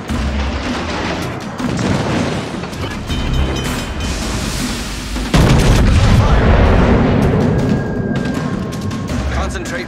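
Naval guns firing on an enemy warship in a video game, heavy booming salvos over a rushing sea-like rumble, with a loud blast about five seconds in and continuing roar afterward.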